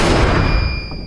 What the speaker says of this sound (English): The blind man rushes in, guessing Alex's location and firing the gun.